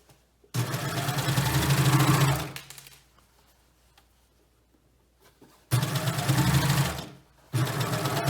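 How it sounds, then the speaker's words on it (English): A sewing machine runs in two close, loud bursts stitching the sides of a bomber jacket hem band, with a quiet pause of handling noise between the runs. "we're going to sew each of these sides separately from the edge to where our other seam started"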